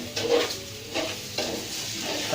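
Onions frying in oil for Barishal-style biryani, with repeated scraping stirs about every half second over a steady sizzle, close and alone without talk.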